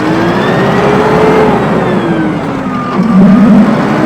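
A Deutz-Fahr tractor engine, a 2024 model, revs loud and close with a steady drone whose pitch sweeps up and down, swelling into a harder rev near the end.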